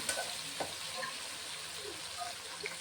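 Eggplant pieces fry in a little oil in a kadai for an eggplant chilli dish, giving a steady, close hiss with a few soft scrapes as they are turned over. No one speaks.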